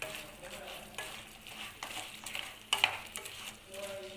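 Chicken 65 pieces, already fried, tossed and stirred in a hot pan, giving a soft steady sizzle broken by a few sharper scraping stirs, close and alone with no talk.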